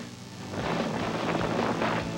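An airplane engine drones in flight during a sky surfing jump, a steady, moderately loud rumbling hum that swells slightly after a quieter start.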